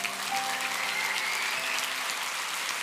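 A church congregation breaks into dense, steady applause, many hands clapping together for a few seconds without a break.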